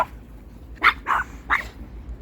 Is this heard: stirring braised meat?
no